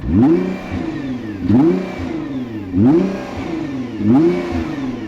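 A Nissan GT-R 50th Anniversary Edition engine revs hard four times in a steady rhythm, each rise dropping back with crackles and pops from the exhaust, loud and close.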